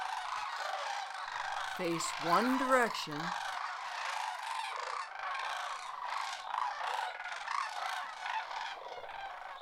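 Cranes gathering on a mid-morning September day give a short burst of loud, rising and falling honking calls, followed by a long stretch of steady outdoor background while a narrator speaks throughout.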